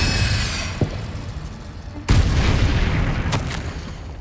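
Two sharp bursts from an Incendio fire spell in Hogwarts Legacy, each a loud whooshing thump followed by a crackling roar, with a smaller click between them.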